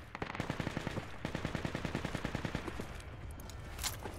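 An A-10 in a military video game rakes an AAV vehicle with rapid cannon fire, heard as two long, dense bursts of close, loud rattling shots followed by quieter rumbling.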